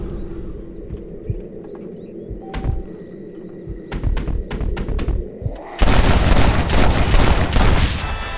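Gunshots ring out in a Red Dead Redemption duel: a few sharp cracks and thuds over low ambient rumble, then a loud burst of blasting noise near the end.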